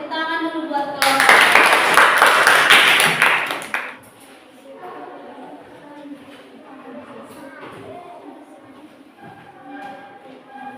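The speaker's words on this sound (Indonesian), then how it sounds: "Tepuk tangan dulu buat kelompok." Classroom of pupils claps for group 1 after its presentation, a loud burst of close clapping lasting a few seconds before fading out, followed by quieter chatter and a teacher's voice.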